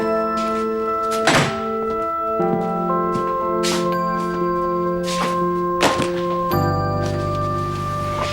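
A series of loud thunks and clattering knocks sounding in a room, irregular and close, over tonal ringing notes.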